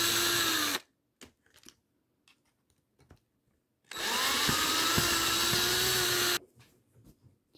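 An electric power driver backs screws out of a Traxxas X-Maxx differential housing in two bursts, the first short and the second several seconds long, with quiet clicks and parts handling between and after them.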